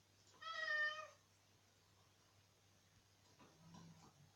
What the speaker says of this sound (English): And that's my cat, Fred, meowing in the background.